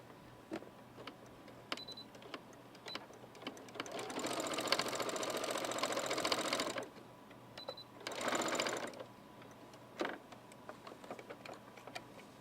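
A sewing machine stitches fabric for a throw pillow or potholder in two bursts, a long steady whir of about three seconds and then a shorter run, with soft ticks and clicks in the quiet gaps.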